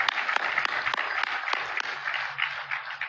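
Audience applause at a special economic zone lease signing event, a dense crowd of clapping with sharp distinct claps standing out, steady and loud for the whole stretch.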